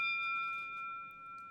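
A bell in a wrestling video game rings with a single clear, sustained metallic tone that fades slowly. The sound is quiet and plays alone.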